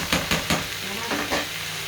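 Mee sua noodles stir-fried in a pan with mushrooms and sauce, giving a close, steady sizzle broken by several quick scraping stir strokes, with no talking.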